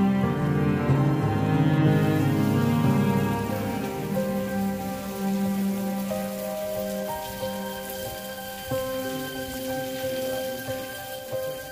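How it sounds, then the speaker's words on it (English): Rain patters steadily on a surface while sustained musical tones ring over it, the shower staying constant and fairly loud throughout. "It's raining."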